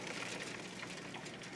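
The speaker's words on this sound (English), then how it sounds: "Sounds like freaking hail against the window." Hail patters against a window during a spring snowstorm, a faint, dense, steady rattle of small hits with no voices.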